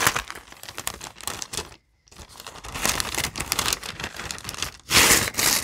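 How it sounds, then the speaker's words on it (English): Crinkling sound, a dense, close run of crackly rustling that stops for a moment of silence, then resumes and swells into a louder, harsher burst near the end. "Okay, crinkling."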